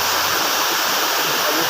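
Waterfall pouring steadily into a pool at a scenic falls, a dense broadband rush of falling water filling the air without pause, fairly close and loud.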